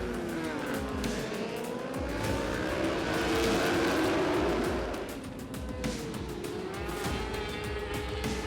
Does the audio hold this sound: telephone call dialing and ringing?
no